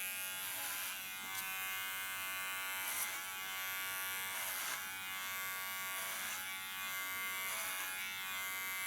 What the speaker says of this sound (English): You can hear how thick her hair is. My clipper has to work on it.